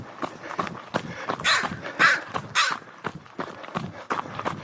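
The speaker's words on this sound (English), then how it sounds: "a crow on the concession stand." Crow on a park concession stand giving a series of harsh, rasping caws at irregular intervals, fairly close, among scattered crowd noise and footsteps.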